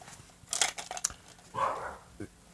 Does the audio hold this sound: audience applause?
no